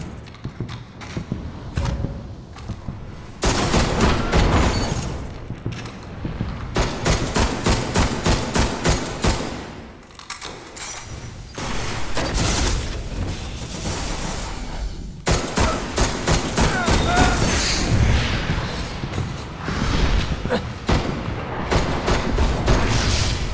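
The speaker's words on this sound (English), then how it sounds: "Last, and certainly not least, here's the Iron Banner Scout Rifle," Iron Banner Distant Star scout rifle firing in Destiny: Rise of Iron, a video game: dense volleys of loud, sharp shots in rapid bursts, with brief pauses and echoing booms between them.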